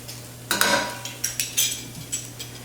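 Minced garlic stirred with softened, lightly browned onions in a pan for a chicken and broccoli casserole, with a series of close utensil scrapes and clinks over a faint low hum.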